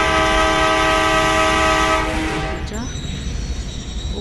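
A ride-on train sounds a loud, sustained horn for about two and a half seconds, then the horn cuts off and leaves the rolling rumble of the train.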